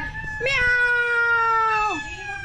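Cat giving a single long, clear meow that rises, holds steady and then drops off, close by and loud, with faint background noise.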